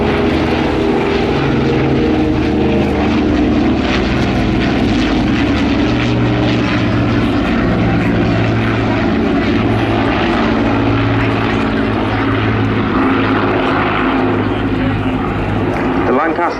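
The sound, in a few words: Dakota and Lancaster propeller aircraft flying past in formation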